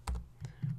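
Keys tapped on a computer keyboard while typing Java code, three separate close clicks spaced out over a moment, with no speech.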